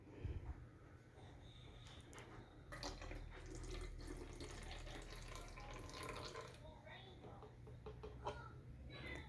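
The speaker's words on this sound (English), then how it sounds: "Now we're going to pour 50 more milliliters in." Water pours steadily into a container during a simple experimental-design demonstration, a continuous close splashing stream lasting several seconds, with some faint talk.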